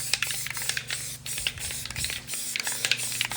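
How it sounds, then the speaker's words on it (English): Regular rattle-can spray paint going onto a Mustang in camouflage, hissing steadily in short repeated bursts with brief gaps between them, close and moderately loud with no talking. "And this is just regular rattle can,"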